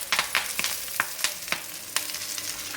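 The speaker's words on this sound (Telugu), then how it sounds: "పొనగంట ఆకు మనమే ఇది మంచిగా ఫ్రై చేయాలి" Ponaganti leaves frying in a pan, a quiet, steady sizzle broken by a run of short, sharp crackles and stirring scrapes, with no talking.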